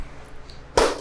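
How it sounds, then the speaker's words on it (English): A single sharp hand clap cracks out after a near-silent pause, close and loud, with a short ring afterward. "All right, Tom, you want to do another sound clap for us?"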